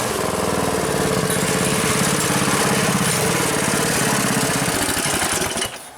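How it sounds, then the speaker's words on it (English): Mini bike with a Predator 212 Hemi engine riding up a driveway, a loud, close, steady chugging engine note that holds for several seconds, then drops away abruptly at the end. "Sounds like Joey's coming up the driveway now"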